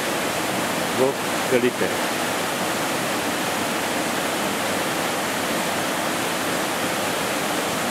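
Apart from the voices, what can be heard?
large waterfall dropping 20-30 metres, Fotinovo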